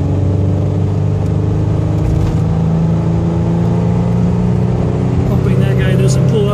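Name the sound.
1991 Pontiac Firebird accelerating hard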